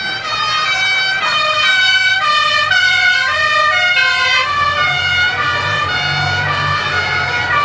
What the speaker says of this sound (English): the outriders are going to flank the fire engine and take them through.